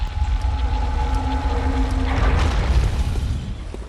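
Rumbling booms from explosions trailing a blood gemstone beam in Bloodborne's Forsaken Castle, a low continuous roar with a denser burst midway, tonal hums fading as the blasts swell.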